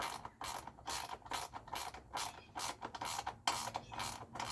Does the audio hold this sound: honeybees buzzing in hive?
no